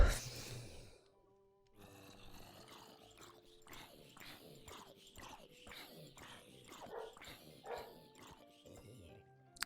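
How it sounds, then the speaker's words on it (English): A dog barks in a rapid series of short, yappy barks that repeat steadily, fairly close and somewhat faint, set against an otherwise quiet indoor room. "My dog just barked."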